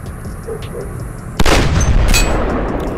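Sniper rifle practice shots in the Sierra 7 mobile shooting game, a single sharp, loud report cutting in over a quiet ambient background and ringing out into a booming tail.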